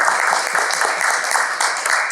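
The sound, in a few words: audience applause at Toastmasters meeting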